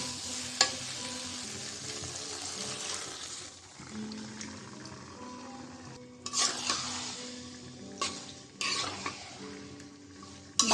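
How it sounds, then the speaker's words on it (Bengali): Beef tripe stirred into a cooked-down spice paste in a frying pan, a steady sizzle with scraping spoon strokes and occasional metal clinks against the pot, bursts of louder stirring in the second half, no voices. "মশলাটা কষানো হয়ে গেছে, আমি এখন এর সাথে বুড়ি দিয়ে দিব।"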